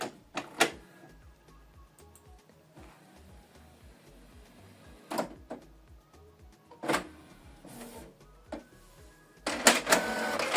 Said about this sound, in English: So it's printing the second page.